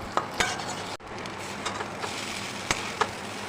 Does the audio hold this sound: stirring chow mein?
yes